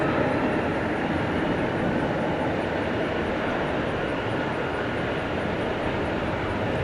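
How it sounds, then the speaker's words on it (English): An American Airlines Boeing 737 Max 8 arriving on runway 18 right at DFW at night sends a loud, steady broadband roar that fills the whole stretch without fading. "Arriving from Santa Ana, California, Max 8, American"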